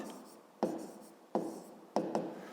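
A pen scratches steadily on paper as an equation is written down, with several crisp taps where the tip strikes the page, close and without talk.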